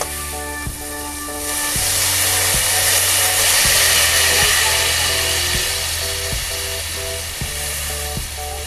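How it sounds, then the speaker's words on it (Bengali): Water poured into a pan of fried spice paste for a mustard fish curry, setting off a loud hissing sizzle that swells and steadies while a rhythmic musical backing plays underneath. "এবার আমি জল দিয়ে দেব।"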